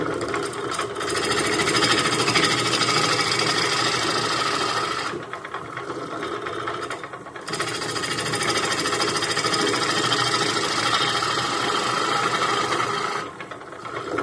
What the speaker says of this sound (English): I'm going to have to turn it so that it's round and also flatten the side of the face